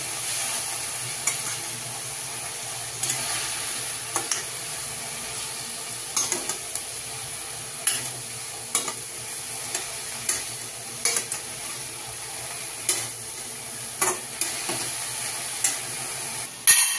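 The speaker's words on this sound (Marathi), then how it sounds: "भाजी भाजून घ्यायची चांगली." Amaranth leaf vegetable is stir-fried in a pan, with a soft continuous sizzle and a regular series of close scraping, clacking strokes from a spatula against the pan, repeating about every second or two.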